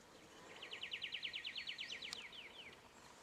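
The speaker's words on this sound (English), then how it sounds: "A few other birds around." Birds calling outdoors in summer bushland at Boyagin, with a fast repeated chirping trill rising then fading over a few seconds at moderate distance, against faint background noise.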